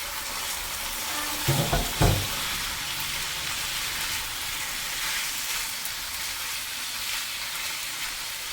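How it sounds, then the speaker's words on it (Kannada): Marinated chicken goes into a pan of fried onions for an Andhra-style chicken dry, giving a brief clatter as it drops in, then a steady, even sizzle with no talking. "ಈಗ ಇದಕ್ಕೆ ನಾವು ಮ್ಯಾರಿನೇಷನ್ ಮಾಡಿಟ್ಕೊಂಡಂಥ ಚಿಕನನ್ನು ಹಾಕೋಣ."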